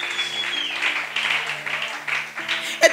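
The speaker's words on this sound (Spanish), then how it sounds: "¿Cuánto le hago una ofrenda de aplauso al Señor?" A church congregation applauds during a sermon: a soft, wash-like spread of many hands clapping, with a voice and sustained tones going on over it, until a louder clap rises at the end.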